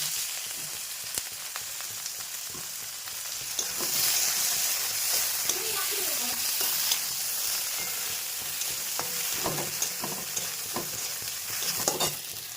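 Onions sizzle and frying steadily in a pan, the base for a dried fish curry with sweet gourd, with a constant hiss broken by occasional scraping stirs; no one speaks.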